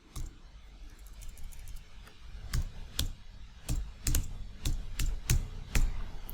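A word being typed on a computer keyboard in a text tool, heard as a close run of distinct key taps that start sparse and grow into a quicker, irregular burst.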